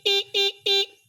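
Car horn sounding without a relay, three short evenly spaced honks with a flat, somewhat thin buzzy tone, loud and close with brief silences between.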